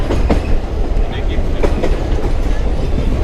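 Train to Elgin market rolling along the rails, a loud steady rumble with rhythmic wheel clatter close by, carrying on without pause for a few seconds.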